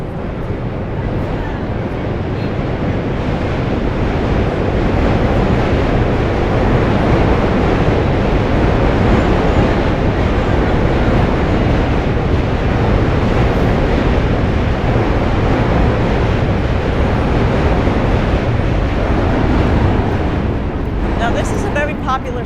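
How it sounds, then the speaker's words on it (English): A New York City subway train passing over a bridge in Lower Manhattan, a steady loud roar and rumble heard up close outdoors that lasts throughout, with wind noise. "You can hear, here comes a train."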